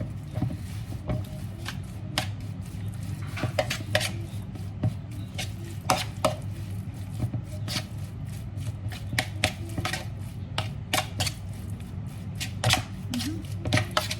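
King's curry powder being stirred into food in a pot, heard as a steady run of sharp spoon taps and scrapes against the pot, fairly close, with no talking.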